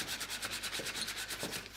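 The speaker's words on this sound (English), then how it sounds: "I'm going to do a little bit of sanding work and then put a coat of shellac." Fine sandpaper rubs back and forth over carved wood in a steady rhythm of short, close scratchy strokes, with no other sound.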